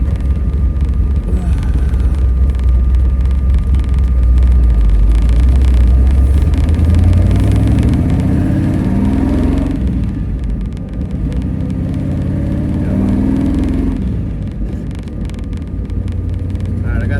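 A 1957 Chevy barn find rumbles along on the road with a loud, low engine drone and wind noise. Pitch swells and dips as gears change, and a voice speaks briefly over it.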